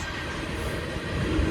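A train rolls past near an RV campsite at a harvest host in Alabaster, Alabama, giving a steady, close, broadband rumble with a faint high whine that builds slightly toward the end.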